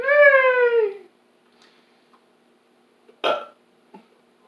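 A long, loud, tonal burp from someone eating cookie dough rises and then stretches out. A quiet pause follows, and then come two short, softer vocal blips.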